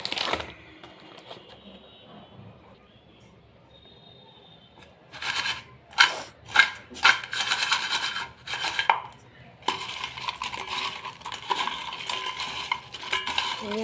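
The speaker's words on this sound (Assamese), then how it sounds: "চাট মছলাখিনি দি মই এইখিনি অকণমান এতিয়া ধুনীয়াকৈ সানি ল'ম।" Homemade potato chips tossed with chaat masala in a bowl, heard up close. After a quiet start come a few crisp rattling bursts, then a steady dry clatter and scrape of chips against the bowl, with no talking.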